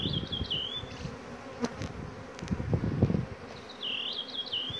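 Honey bees buzz steadily at an open brood-box hive, a dense close hum with higher wavering tones at the start and end and faint handling noises in between; no talking.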